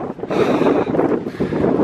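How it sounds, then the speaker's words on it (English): Wind buffets an uncovered microphone outdoors at an abandoned 1895 one-room schoolhouse in Indiana, a loud, continuous rumbling roar with gusty swells and no speech. "The wind's gonna be god awful."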